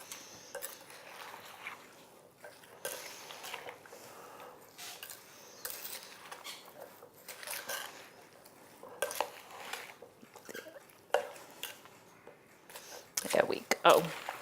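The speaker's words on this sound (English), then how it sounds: "You just give it a good stir. Make sure everything's incorporated." A spoon stirs a thick baked beans mixture with chunks of Portuguese linguiça sausage in a bowl, making steady wet scraping and clinking sounds close up, while a person talks over it throughout.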